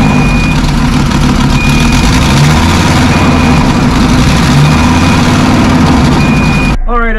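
A Ford 6.8L V10 engine in an RV runs at a steady idle after new spark plugs and ignition coils, with a loud, low, constant rumble and a faint repeating beep. It cuts off abruptly just before a voice starts speaking.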